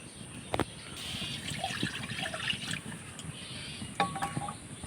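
Water pours from a brass bowl into sugar in a pan to make syrup, giving a steady trickle and dribble with a few small clinks, up close and without talk.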